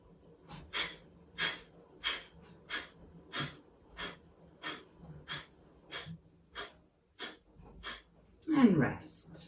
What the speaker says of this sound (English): So breathing through the nostrils into the belly.